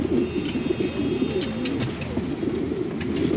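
Pigeons coo in overlapping low, throaty calls near squabs in a nest, close and continuous, with faint chirps above.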